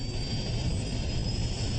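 Airliner jet engines roar at near full power as the plane dives, a loud, steady broadband rush with no break or pause.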